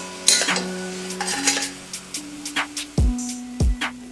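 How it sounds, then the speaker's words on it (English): Crispy beef is stirred in sauce in a pan, with a utensil scraping and clinking repeatedly against the metal in uneven strokes, close and fairly loud, with no talking over it. "we're just gonna stir this all together and coat the beef in that sauce"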